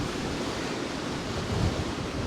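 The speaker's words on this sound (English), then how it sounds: "That's way too windy to be shooting here." Strong wind buffets an outdoor spot, a steady, loud broadband roar with gusting rumble on the microphone that swells briefly near the end, with no voices.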